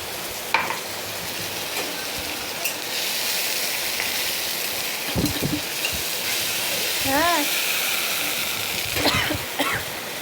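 Water poured into frying masala of chili and onion, a continuous sizzle and bubbling hiss in a home kitchen, with a few clanks of utensils and a cough or brief voice partway through.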